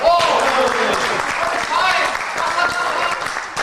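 Audience applause fills a room at a magic show, a dense steady clatter of clapping mixed with voices.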